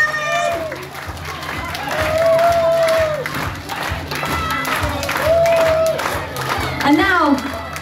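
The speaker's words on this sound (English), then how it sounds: "Clap those hands! They will clap! Clap louder!" A large crowd at a wrestling show claps steadily, with a mix of cheers and shouts, while an announcer keeps talking loudly over the noise.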